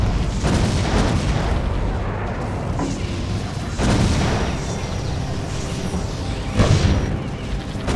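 Gun turrets fire in the video game Defense Grid: The Awakening, a dense barrage of repeated booming shots and blasts layered over one another, loud and continuous throughout.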